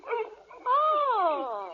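Dogs in an old-time radio detective drama bark and whimper, a short yip first, then a sustained rising, wavering howl-like bark carrying clearly over a quiet background.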